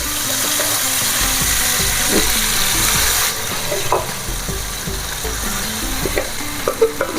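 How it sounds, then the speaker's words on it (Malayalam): Chickpeas fry in ghee for a kadala pradhaman dessert, a loud, dense, continuous sizzle with scraping stirs and small clicks of the spoon against the pan, close up and with no voices. "നെയ്യിൽ കിടന്നാണ് നമുക്ക് ഈ കടല വരട്ടിയെടുക്കാനുള്ളത്"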